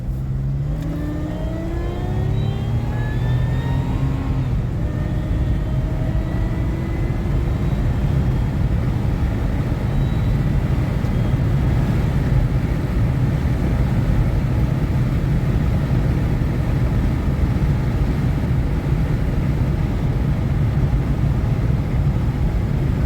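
A 2006 Pontiac Grand Prix with a supercharged 3.8L and a swapped 4T65E-HD transmission driving, the engine climbing in pitch through several gear shifts early on, then holding a steady loud cabin drone with road noise.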